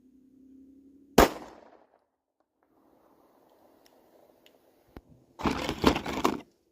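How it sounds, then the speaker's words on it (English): Beretta 92FS 9mm pistol fired at a metal target close by, one sharp loud shot early followed later by a dense burst of cracks and ringing impacts. "And shooting a metal target so close"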